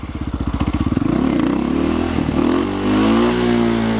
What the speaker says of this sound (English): You hear how I let the bike drop a little, and then when it started dropping, I gassed it?